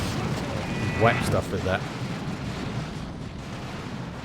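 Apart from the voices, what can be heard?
Basilisk artillery strikes exploding in the video game Dawn of War 2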